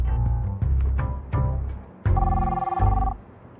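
A telephone rings in bursts of electronic bell tones, several rings in a row, loud and close with no talk over them.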